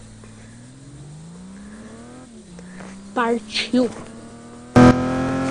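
Video-game car in Driver 3 accelerating, a steady engine tone climbing in pitch under casual talk, with a sudden louder revving burst near the end.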